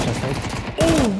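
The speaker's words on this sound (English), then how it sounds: "Oh, what a shot!" Rapid bursts of gunfire in Counter-Strike crackle loudly through the whole moment, overlapping with a voice talking over them.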